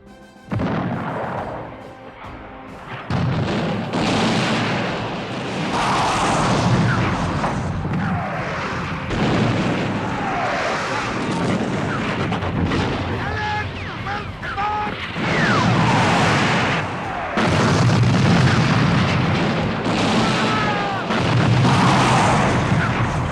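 Heavy booming cannon fire and explosions from the Battle of Waterloo roll on continuously, loud and dense, with shouting voices mixed into the din of battle.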